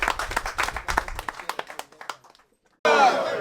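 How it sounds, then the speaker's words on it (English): Audience applause at an ADC political rally in Lagos, a burst of scattered claps mixed with voices for about two seconds, fading to near silence before a loud wash of crowd noise. "A round of applause for him, for honorable."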